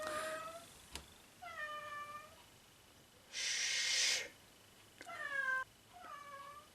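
A cat meows several times nearby, drawn-out plaintive calls separated by pauses, with a brief hiss-like burst of noise in between.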